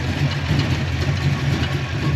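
A Ford Fox Body engine idles steadily right after a TFI ignition module relocation, giving a loud, close, even rumble with a low throb and no talking.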